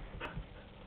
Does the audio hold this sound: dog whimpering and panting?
yes